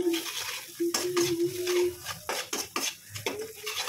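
Spice masala of turmeric, dry chili powder, cumin powder and Kashmiri red chili is stirred in a pan for a cabbage and eggplant dish; a spatula scrapes and clatters against the metal in short bursts over a soft sizzle.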